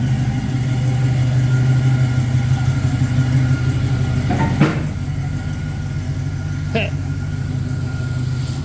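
A 1966 Pontiac Catalina wagon with a Sniper fuel injection setup idles just after starting, a steady low engine hum running throughout with a couple of brief sharp clicks partway through.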